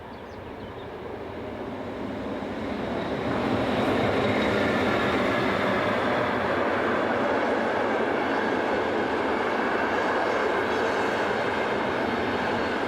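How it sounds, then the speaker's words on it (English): ÖBB class 1044 electric locomotive 1044-023 heads InterCity IC 546 from Vienna to Salzburg near St. Florian, a broad rolling rumble swelling over the first few seconds, then holding steady and loud with no voices. "(1044-023) comes into view whilst heading train IC 546, the 934 from Vienna to Salzburg."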